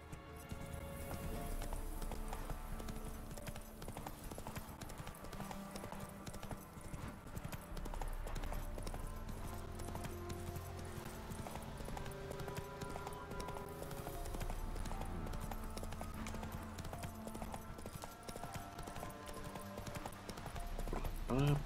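Rhythmic hoofbeats of the horse Roach galloping in The Witcher 3, a continuous clip-clop at steady pace under game ambience and music, with a voice talking occasionally.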